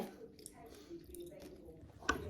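Someone chews small green seeded grapes up close, soft wet squishes and crunches in an irregular rhythm, quiet, ending in a sharper crunch, with someone talking.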